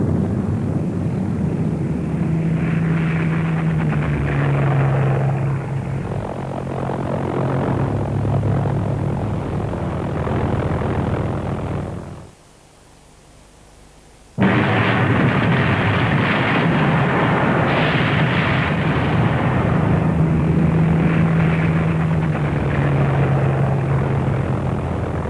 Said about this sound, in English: the fighters tried to shoot down the missiles over thinly populated countryside.